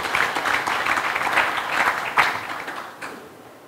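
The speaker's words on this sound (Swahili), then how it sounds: "Makofi mengi tafadhali." An audience at a Simba club announcement breaks into applause: a full burst of many hands clapping that swells, holds, then tapers off toward the end with a last few scattered claps.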